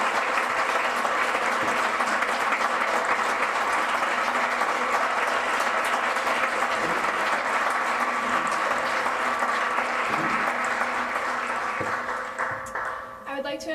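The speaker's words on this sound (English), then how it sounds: "Please give a warm round of applause to congratulate the newest members of Maynard High School's National Honor Society." Sustained applause from a high school auditorium audience at a National Honor Society induction ceremony, dense steady clapping that carries on for several seconds and then fades at the end.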